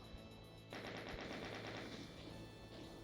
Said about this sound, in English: He is firing at me